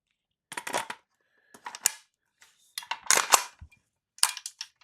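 Metallic clacks and rattles from working the mechanism of a VFC AKS74U gas blowback airsoft rifle, several separate bursts of handling clicks with short pauses between, close and fairly loud.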